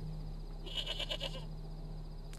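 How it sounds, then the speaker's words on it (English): A single short, quavering goat bleat, close and clear against a steady low hum, lasting under a second in the middle of an otherwise quiet stretch. "It's a goat."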